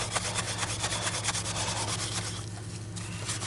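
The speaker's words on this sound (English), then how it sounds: "A little bit of steel wool on their liquid steel plastic, which is really just ABS" Steel wool scrubbed over a Dyson DC50 vacuum's ABS plastic base plate, a continuous close scratchy rubbing in quick back-and-forth strokes over a steady low background hum.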